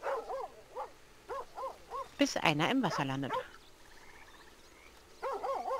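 Dogs bark and yelp in a burst of loud, sharp barks in the western video game Red Dead Redemption, during roleplay, with someone talking before and after.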